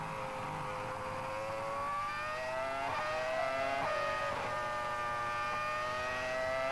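Several high-pitched Formula One engines, Honda and Ferrari, whine steadily at the 2004 Australian Grand Prix, their pitch gliding downward with quick blips as cars pass and shift, moderately distant and continuous throughout.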